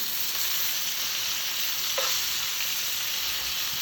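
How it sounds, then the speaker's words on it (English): Chicken sizzles steadily in a frying pan, a continuous close crackling hiss with one brief scrape partway through. "got all that sizzling"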